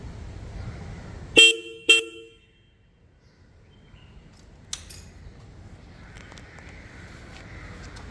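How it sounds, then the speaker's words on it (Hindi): Two short, sharp honks from a Minda horn on a Honda NX 500 motorcycle in quick succession, loud and close, followed by quiet background with a faint clink. "तो ये मिंडा का हॉर्न है, काफ़ी अच्छा है।"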